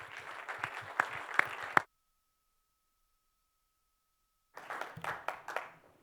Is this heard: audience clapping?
yes